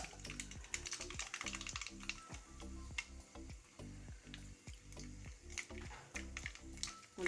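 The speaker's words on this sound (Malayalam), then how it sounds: "എണ്ണ ചൂടായി ഇപ്പം കടുക് ഇട്ട് കൊടുക്കാം" Mustard seeds spluttering in hot sesame oil for a lemon pickle, with a rapid, close crackle of small pops over a steady sizzle and no talking.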